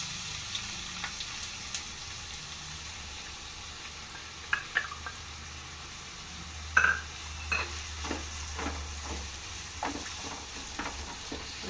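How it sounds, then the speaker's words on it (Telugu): Chopped onions frying in hot oil in a pan for a chickpea curry, giving a steady soft sizzle with occasional stirring clatters and scrapes, close and fairly quiet, with no talking. "ఓకేనండి, ఆనియన్స్ వేగుతున్నాయి కదా"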